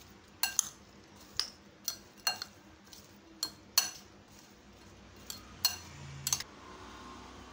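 A spoon mixes farsan snack mix for chana chaat in a bowl, making sparse, irregular clinks and scrapes against the dish, quiet and close.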